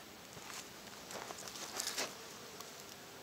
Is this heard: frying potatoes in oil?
no